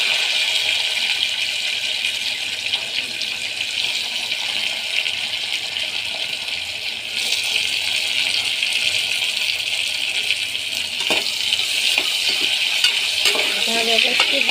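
Onion, tomato and bay leaf fry with curry leaves and garlic in a pan for khichdi, giving a loud, steady sizzle throughout with occasional light stirring scrapes near the end.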